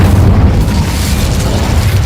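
A loud, dense whooshing roar of the Incendio fire spell from Hogwarts Legacy, a continuous burst of flame lasting about two seconds, heard alone.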